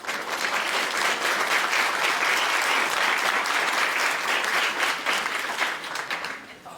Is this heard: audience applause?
yes